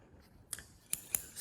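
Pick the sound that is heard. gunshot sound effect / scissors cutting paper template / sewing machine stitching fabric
scissors cutting paper template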